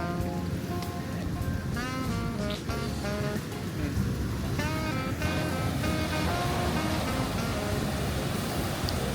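Ocean waves wash steadily onto a beach in Durban, South Africa, a continuous loud surf roar with no clear pauses, close by and filling the whole scene.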